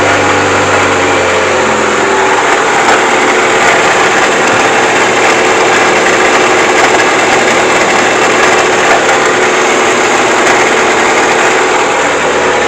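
An idling car engine runs steadily and close by, with a faint irregular clicking or rubbing from a worn gearbox mixed into the constant hum; no one speaks.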